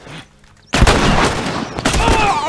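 Gunfire in The Last of Us Remastered: a loud, dense burst of shots fills most of the short stretch after a quiet start, with a brief pause between two volleys.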